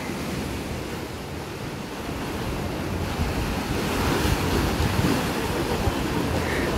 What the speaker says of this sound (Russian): Вот самое главное, чтобы был звук от этих волн.